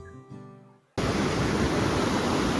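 Waterfall at Curug Tempuk Telu near Dieng, a steady loud broadband roar of falling water that cuts in abruptly after a brief quieter moment with faint tonal sound.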